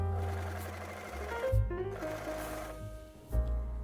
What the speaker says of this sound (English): And then I sewed all the bodice pieces together, so I had a total of 3 bodices.